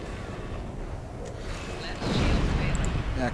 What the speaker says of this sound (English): Send out my torpedo there.